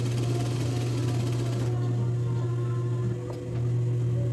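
A sewing machine runs steadily and close, stitching a third seam on a woman's blouse, a loud continuous mechanical whir with a rapid needle rhythm that eases off slightly near the end.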